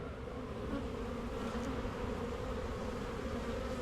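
Honey bees buzz in a dense, continuous drone close by while a weak nucleus hive is opened and its frames are checked, with no talking.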